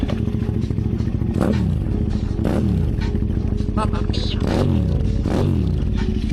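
Cold KTM 990 SMR motorcycle with a non-stock titanium exhaust, idling steadily after starting, a loud continuous engine note with repeated rhythmic swells and faint clattering, held at low revs.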